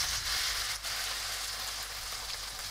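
Carrots for a vegetable capcay sizzle and fry steadily in a hot pan after a splash of water goes in, a dense, continuous hiss at close range with no talking.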